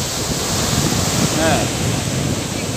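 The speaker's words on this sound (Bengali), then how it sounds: "সমুদ্রের হাওয়া আসছে।" Strong sea wind blowing at Chilika, a constant loud roar buffeting close by, with a brief spoken word near the start.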